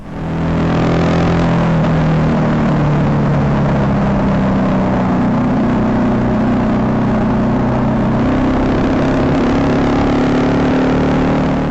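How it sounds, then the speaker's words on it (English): Motorcycle ride captured by the built-in microphone of an Innovv K7 dash camera, a continuous loud engine drone with rushing wind, steady throughout with slight pitch shifts as the engine note changes. "it features a built-in microphone so it can capture some of the audio off your bike"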